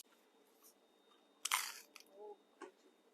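A bite into Turkish pizza topped with minced meat gives one loud crisp crunch, followed by softer chewing crackles, close up with no talk, at an Istanbul street food stall.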